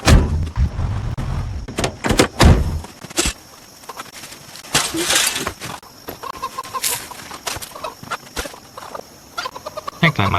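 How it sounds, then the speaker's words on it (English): Chickens in a coop cluck and squawk in scattered bursts, some loud and close, alongside knocks and rustling and occasional human voices. "I don't see a rooster in here, but that chick over there is a male."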